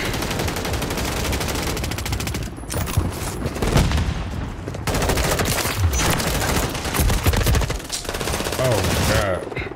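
Full-auto M16 fire in Modern Warfare 3, rapid bursts of close, loud rifle shots in long strings broken by brief pauses, with other gunfire and blasts layered in a busy multiplayer firefight.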